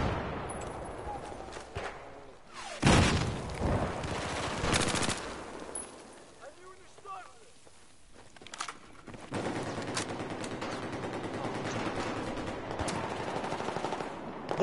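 Loud, rapid bursts of automatic gunfire crackle in a video game firefight, heavy volleys near the start and a long continuous stretch of shooting later, with a brief quieter lull between them.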